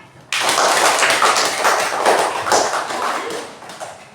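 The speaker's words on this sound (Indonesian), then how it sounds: "Tepuk tangan." Schoolchildren in an Indonesian classroom clap their hands together for a group's correct answer, a sudden burst of dense, uneven clapping that starts abruptly and carries on steadily before gradually thinning.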